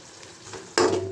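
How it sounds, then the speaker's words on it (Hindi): Chickpeas seasoned with salt, crushed chili, turmeric and cumin are stirred in a pan in a village kitchen. A soft scrape leads into a sudden loud sizzle partway through, with no talking. "और हम इसको मिक्स कर लेंगे।"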